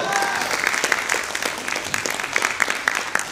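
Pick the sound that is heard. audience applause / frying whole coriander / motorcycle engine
audience applause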